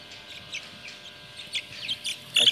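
Chickens cluck and chirp softly while one is held for beak trimming, a few scattered calls rising to a louder burst at the end, with no talking.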